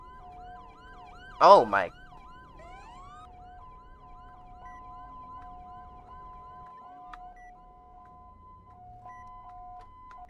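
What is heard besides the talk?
hi-lo police siren in FSRP video game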